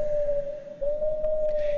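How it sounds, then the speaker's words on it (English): An owl call heard as a single long, steady hooting tone that holds nearly unbroken for under two seconds over faint background hiss, alone with no talking. "It's an owl, one of nature's most interesting creatures."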